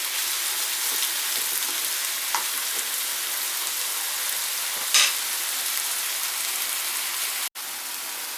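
Chicken pieces frying in a pan for a tortilla bake give a steady, soft sizzle and crackle, with an occasional louder pop and a brief clink near the end.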